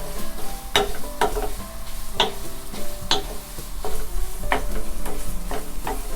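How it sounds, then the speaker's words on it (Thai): Shallots and fresh chilli being stir-fried in a pan, a constant close sizzle broken by sharp spatula scrapes and taps roughly every second, with no voices. "เราก็ผัดให้หอมของเราสุก นิ่มก่อนนะคะ"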